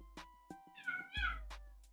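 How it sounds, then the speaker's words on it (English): A pet cat meows indoors in a home, several short close cries spaced through two seconds, the middle ones longer and more drawn out, with no talking over them. "She was meowing."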